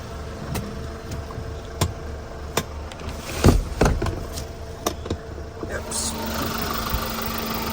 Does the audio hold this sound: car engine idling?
yes